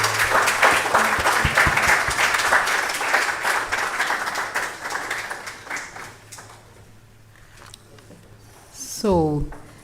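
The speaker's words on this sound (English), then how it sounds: "can we give her a clap?" Audience applause at a hospital quality-week exhibition of best practices, steady clapping from a crowd that fades over several seconds before a voice speaks at the end.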